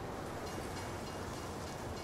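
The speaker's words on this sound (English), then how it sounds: "there's the train." Train passing in the Farming Simulator 19 video game on the Ravenport map, a steady broadband rumble and rolling hum that holds evenly throughout, with a brief high squeal near the end.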